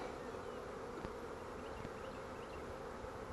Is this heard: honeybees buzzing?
yes